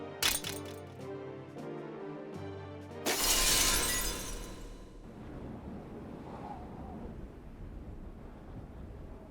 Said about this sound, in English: Okay, something shatters,